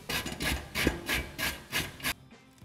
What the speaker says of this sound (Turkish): büyük bir kasenin içerisine önce havuç ve pancarımızı rendeleyelim